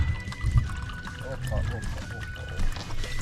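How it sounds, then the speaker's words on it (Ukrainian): Water pours into a cup with a steady trickle and splash, close by, as low rumbling of artillery and a faint voice sit in the background. "Наливаємо в чашечку."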